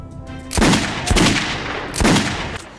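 Gunfire in the shooter Metro 2033 Redux comes as three loud, close bursts of shots with booming tails, separated by short pauses and with no voices.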